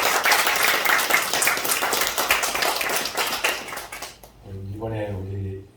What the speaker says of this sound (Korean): 다시 한번 우리 박수로 격려하겠습니다